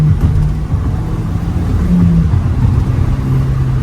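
A 2008 Volkswagen Eos engine revs steadily with a loud, breathy intake roar from the standard intake layered over a low droning rumble, close and continuous.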